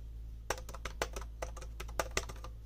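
Quick, crisp keystrokes on a metal-bodied keyboard tap out an uneven rhythm, with a few sharper presses standing out over a low steady hum, close and fairly quiet.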